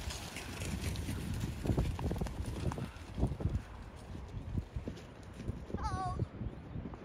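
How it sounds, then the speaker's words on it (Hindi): A horse being ridden in Kyrgyzstan near Issyk-Kul Lake, hooves clip-clopping in an uneven rhythm on the ground, moderately near beneath steady outdoor background noise. "वो देखिए घुड़सवारी करता हुआ"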